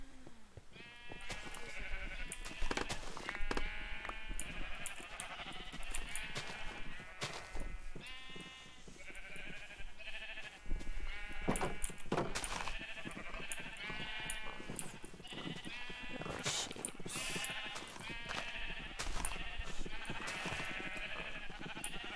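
Sheep in the Minecraft video game bleat over and over, a close chorus of overlapping nasal calls mixed with small clicks and game noises, with no talk.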